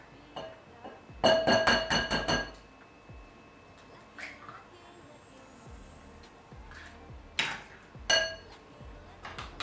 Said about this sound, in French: On va venir ajouter notre œuf.